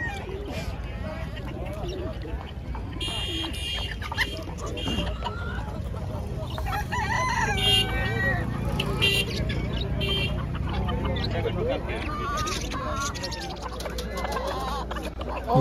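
Chickens cluck and a rooster crows amid a busy outdoor animal market at the Muktsar Maghi fair, with people talking throughout and traffic faintly in the background.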